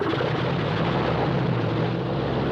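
An 800 horsepower engine on the GB-R1 racer aircraft runs at the National Air Races in Cleveland, Ohio, a loud continuous rough propeller drone with no voices over it.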